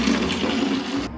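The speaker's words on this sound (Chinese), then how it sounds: "还是要开这个水，用这个瓢崴着洗" Water splashes steadily from a ladle in a bathroom without a tap in the Philippines, a short continuous gush that ends abruptly.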